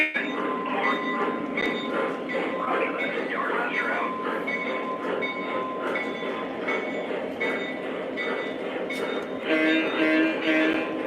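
MTH Q2 and Lionel model trains run continuously with a rolling mechanical rumble, steady clicking over track joints and a few squealing wheel tones near the end. Faint talk sits underneath.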